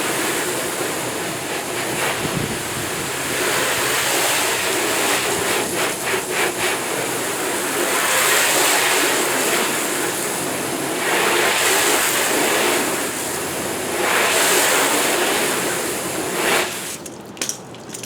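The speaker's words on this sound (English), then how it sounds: "I'm going to rinse it off." A hose sprays water across a car hood while rinsing off pH neutral soap, a loud continuous close hiss with uneven surges and splashes for the whole span.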